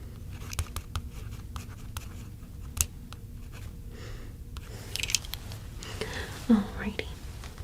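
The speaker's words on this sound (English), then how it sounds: "Let me just write that down." Pen scratching notes on paper during a doctor check-up roleplay, faint close scribbles and taps under soft whispering, with a few louder rustles near the end.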